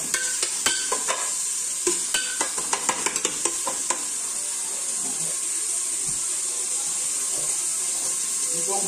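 Onion and garlic being stirred in a pot over a wood fire, a steady frying sizzle with a burst of close scraping spoon clatter early on, then continuous sizzling alone.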